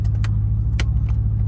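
A Mustang drift car loaded with gear rolls out after a drift event, a steady close low engine drone with a faint light rattle or jingle on top.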